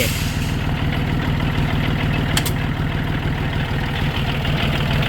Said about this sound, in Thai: ดูเครื่องยนต์นะครับ เปิด เปิด เปิดเครื่องเลยครับ